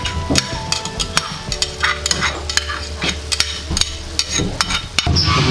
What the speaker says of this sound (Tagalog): Haluin lang natin mabuti.